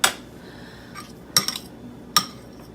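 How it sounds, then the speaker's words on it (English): A spoon scoops avocado into a bowl of softened cream cheese and sour cream, giving three sharp, close clinks of utensil against dish spaced across a quiet background, with no talking. "So I'm just scooping out half of the avocado"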